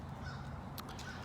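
Crows caw outdoors at a scenic spot, a couple of short harsh calls over a steady background hum, moderately faint.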